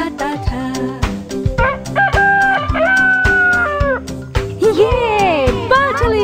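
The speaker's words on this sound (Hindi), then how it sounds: "बाटलीटो था एक मुर्गा मोटा और प्यारा सा, जब सूरज आ जाता था बाटलीटो गाता था।" A cartoonish rooster crow rings out over a bouncy children's song with singing and steady music, bright and loud throughout.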